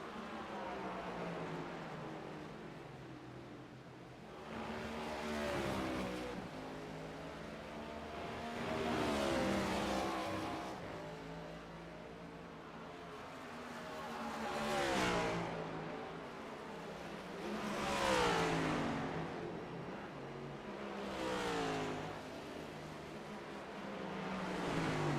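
Race cars at Watkins Glen International accelerate through the bus stop area in a sim-racing series round, engines swelling and fading in repeated loud passes roughly every five seconds, with a continuous motor drone between them.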